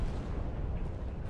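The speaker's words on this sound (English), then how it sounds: "Powerful explosions swept through the area." Powerful vapor cloud explosions tear through a refinery's isomerization unit after a truck backfire ignites the cloud, a dense, continuous low-frequency roar with no distinct separate bangs.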